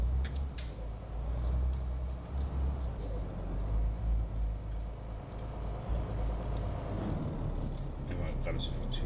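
Truck air brakes in Euro Truck Simulator 2 let out several short, sharp hisses over a steady, low diesel engine drone that runs throughout.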